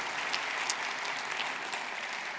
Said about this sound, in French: On peut l'applaudir pour ses résultats.